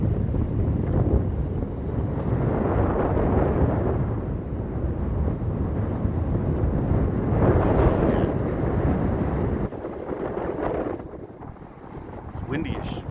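Strong wind at a beach with the tide running high buffets the microphone in a steady, loud roar that swells and eases, with a short drop in force near the end.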